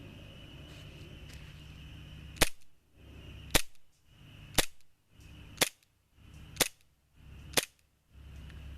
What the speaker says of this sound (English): Today we've got the BlackWater BW1911 R2 CO2 BlowBack Airsoft pistol.